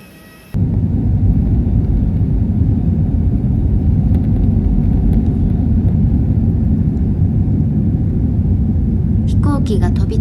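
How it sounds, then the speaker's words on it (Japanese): A passenger airplane takes off on a morning flight, its engines producing a loud, steady low roar that begins abruptly and holds throughout, with a brief higher-pitched sound near the end. "飛行機が飛び立つ瞬間が好きだ。"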